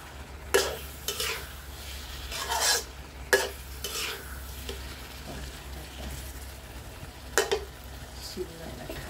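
Shrimp stir-frying with holy basil in a pan: a low sizzle under several sharp scraping strokes of a spatula, spaced irregularly, close by and fairly quiet between strokes.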